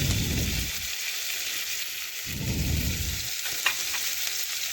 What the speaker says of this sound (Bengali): তেল দিয়ে একটু ভেজে পেঁয়াজটা একটু নরম করে নেব।